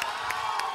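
A concert crowd at a rock festival cheers and claps, a dense, continuous roar with a few louder shouts rising out of it.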